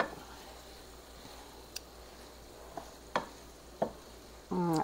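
Taco soup ingredients, including garlic and onions, cook in a pot with a faint low sizzle, a few soft spoon clicks and scrapes against the pot, and a brief louder burst of stirring near the end.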